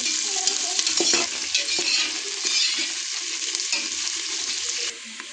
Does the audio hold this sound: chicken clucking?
no